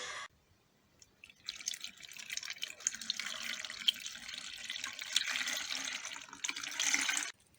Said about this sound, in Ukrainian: Вода, звичайна, холодна, яка в нас йде із крана